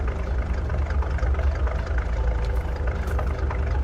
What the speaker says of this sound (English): the engine sounds nice